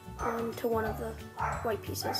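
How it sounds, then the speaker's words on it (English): A dog barks repeatedly somewhere in a house, answering something at the door, while a person keeps talking over the yapping. "Sorry if you can hear my dog barking in the background."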